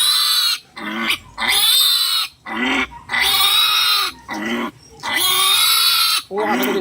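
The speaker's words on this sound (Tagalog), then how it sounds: "Oh, nakakaawa yung baboy, guys." A pig squeals loudly and close during castration, in long, piercing, repeated cries broken by brief gasping pauses, with people talking in the background.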